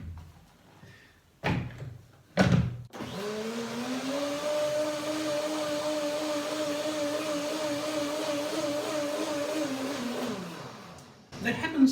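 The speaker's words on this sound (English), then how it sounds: "And then one more blender dance." A blender whirs steadily for several seconds, a sustained motor drone, preceded by a few sharp knocks and clunks.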